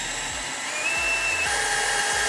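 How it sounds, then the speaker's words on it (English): Power drill with a 3/8 bit boring out a hole in a truck bed, a steady high-pitched motor whine that shifts pitch as the bit cuts through the metal. "we're going to grab our drill, we're going to grab our 3/8 bit, and we're going to punch this hole out"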